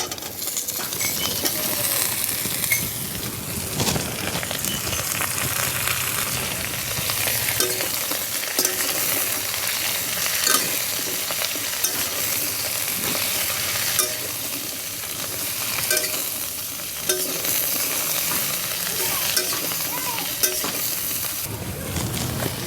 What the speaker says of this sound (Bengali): মশলার মধ্যে কেটে রাখা শাপলাগুলো দিয়ে একটু ভালো করে নেড়ে চেড়ে নেব